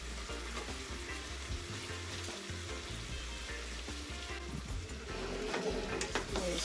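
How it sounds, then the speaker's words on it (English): Jamaican curry chicken in a pot being stirred, a low continuous sizzle with soft scraping and shuffling of the pieces, faint and close, without speech. "Stir it around"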